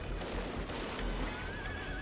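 A horse neighing in a MAME arcade shmup video game, a brief, lo-fi whinny with a rising tonal cry, buried in dense, noisy game sound that fills the whole clip.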